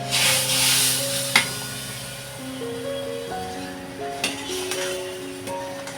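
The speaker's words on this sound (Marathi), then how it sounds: "चांगलं हलवून घ्यायचं मस्त नाहीतर आत गुठळ्या होतील" Roasted semolina is stirred in water in a wok for a mango sheera, giving a soft, steady scraping and sloshing with occasional sharper knocks against the pan, all under gentle background music.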